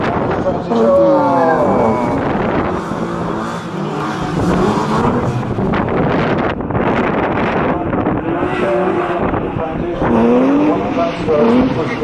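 A drift car roars past at a drift competition with screeching tires and gusty wind noise, engine revving and squealing continuously over the straight.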